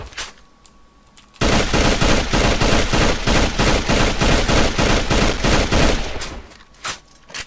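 Sustained burst of M16A2 rifle fire in the shooter game AVA, rapid evenly spaced shots for about five seconds, loud and close, then a couple of isolated shots near the end; no talking.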